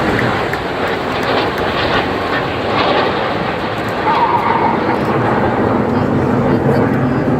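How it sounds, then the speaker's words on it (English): Red Arrows display jets at the 2017 Blackpool Airshow fill the air with a steady, loud jet roar that holds throughout without letting up. "bring our eyes further right now to find the 4 jets of Jippo"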